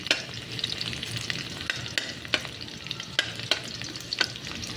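Garlic frying in a pan crackles with a constant bright sizzle, punctuated by repeated sharp clicks of a utensil stirring against the pan, with no voices.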